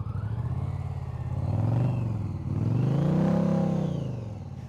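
A motorcycle circles a corner of a parking lot during riding practice, its engine swelling and fading twice as it gains speed, a steady close drone with no talk.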